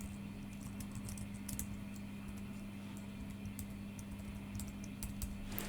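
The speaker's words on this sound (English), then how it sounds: "I'm noticeably more tentative with the keyboard as I'm careful not to typo the wrong shortcut" Keys on a computer keyboard are tapped in scattered, hesitant clusters of close, light clicks over a low steady electrical hum, with no voices.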